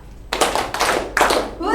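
A group playing a game claps in unison, three crisp bursts of hands struck together in quick succession, close and fairly loud, with a short pause between each.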